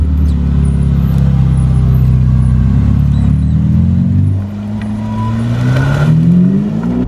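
A Ferrari SF90 Stradale, a 1000-horsepower hybrid, idles loudly with a deep steady engine drone, then dips briefly before rising again into a strong climbing rev, close up and alone.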